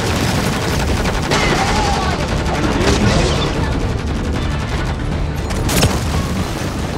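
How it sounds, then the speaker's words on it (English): Dual revolvers blasting in Modern Warfare Zombies, a dense, continuous barrage of loud gunfire and booms filling the whole stretch with no pauses, a sharper burst near the end. "These dual revolvers are not the best gun for this."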